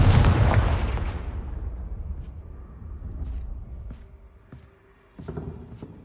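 A Confringo spell explodes in Hogwarts Legacy with a loud, booming blast that rolls off over several seconds, followed by a few sharp, smaller pops and clicks.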